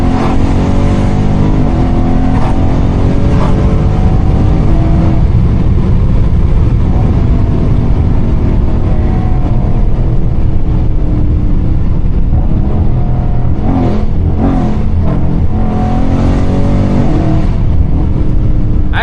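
A tuned catless 392 Scat Pack car on Nitto tires accelerates hard, its loud engine roaring continuously from inside the cabin with rising and falling revs throughout.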